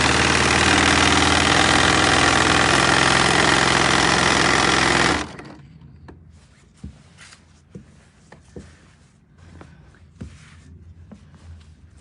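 A quilting machine stitches a quilt panel with a loud, steady motor drone for about five seconds, then stops, leaving faint scattered clicks and handling noises.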